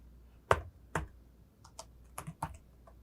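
Keystrokes on a computer keyboard as Linux commands are entered, a handful of distinct clicks in uneven bursts, close and clear with no talking.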